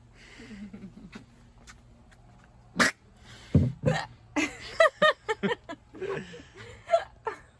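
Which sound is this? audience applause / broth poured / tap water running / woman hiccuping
woman hiccuping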